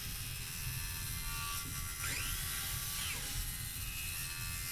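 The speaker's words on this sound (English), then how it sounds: "I clamp it up so that way the board will stay upright while I cut it with the circular saw." A circular saw cuts through an upright clamped pallet wood board, giving a continuous high whining buzz that holds steady and loud throughout, with the pitch dipping slightly as the blade bites.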